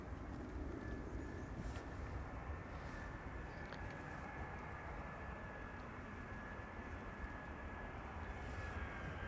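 An EasyJet Airbus A319 arriving from Prague touches down on the Polderbaan runway at Amsterdam Schiphol, a distant, faint steady engine roar with a thin high whine running underneath.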